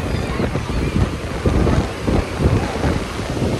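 Wind buffeting the microphone over rolling waves at Murudeshwar beach in Karnataka, a continuous loud rumble and wash of surf with no clear voices.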